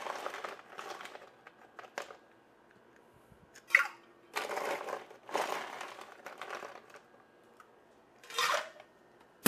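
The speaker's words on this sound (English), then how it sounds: "Let's add some ice to our shaker." Ice cubes dropped into a metal cocktail shaker for a martini-style drink, a string of close rattling clatters and crunchy bursts coming in uneven clumps across the stretch, with quiet gaps between.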